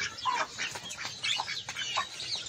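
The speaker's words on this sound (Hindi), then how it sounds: "मुर्गी को सालन वाला बाजरा खिला रहे हैं, थोड़ा सा सालन लगा के।" Hens clucking close by while eating millet mixed with a bit of curry, a busy run of short clucks and soft calls, alone without talk.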